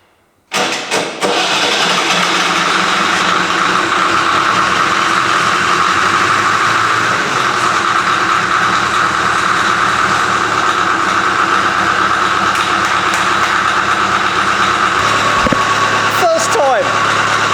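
A stone-cold Series 1 Land Rover engine cranks briefly, catches and settles into a loud, steady idle that drones on close by for the rest of the stretch.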